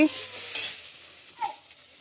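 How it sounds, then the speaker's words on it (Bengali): Mother cooking in a home kitchen, with a soft sizzle of frying and short stirring scrapes in a pan, close and fairly quiet, with a brief clink partway through. "মা এখানে রান্না করছে"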